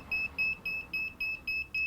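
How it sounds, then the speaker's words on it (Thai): A timer alarm beeps when time is up, giving seven short, evenly spaced high electronic beeps in quick succession, clear and alone over faint background hiss. "พอเราได้ตามเวลาปุ๊บ ค่ะ จะมีสัญญาณเตือนว่านี่ได้เวลาแล้วได้เวลาแล้วนะคะ"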